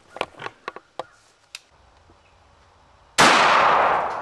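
A single gunshot bursts out loud and sharp after a run of quieter clicks and clanks, its blast trailing off over the last second.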